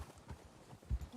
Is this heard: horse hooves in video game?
yes